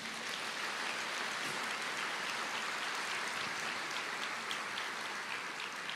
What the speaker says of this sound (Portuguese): Vamos aplaudir ao Senhor, gente.